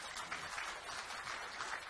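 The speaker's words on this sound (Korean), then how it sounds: "박수" Audience applause at a year-end talk show, a steady wash of many hands clapping that fills the whole moment at moderate level with no voices over it.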